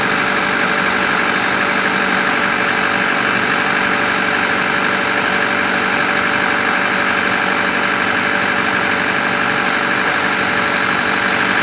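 A 2010 Isuzu Panther LS Turbo diesel engine idles steadily after tuning, a continuous, even drone with a strong high-pitched whine layered over it and no talk.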